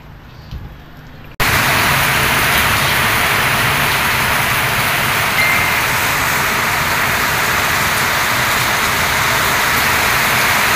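Heavy rain pours down outside a motor parts store where someone shelters, starting abruptly after a brief quieter moment and then holding as a loud, dense, unbroken roar.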